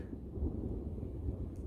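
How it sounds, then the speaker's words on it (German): Low, steady rumble of distant thunder from an approaching thunderstorm, a continuous heavy roll with no voices over it. "Ein Gewitter zieht auf."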